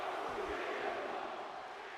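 Dense, roaring arena crowd cheering in the wrestling video game WWE 2K25, a continuous wash of voices at steady loudness throughout.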